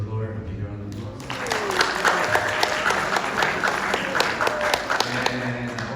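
Applause from an audience at a Rizal Day community event in Carson, rising to a steady dense burst of many clapping hands with speech before and after.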